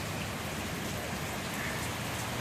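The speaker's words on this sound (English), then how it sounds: "it just keeps raining like this" Steady rain falls in Springfield, a continuous dense hiss of drops on surfaces with no pauses and no voices throughout.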